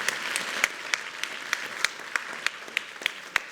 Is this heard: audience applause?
yes